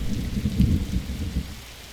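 Thunderstorm in the video game 99 Nights in the Forest: a low rolling rumble of thunder with a rain-like wash, swelling and fading over two seconds with no talk.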